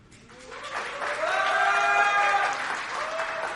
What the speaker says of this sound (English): Biggest applause for that so far.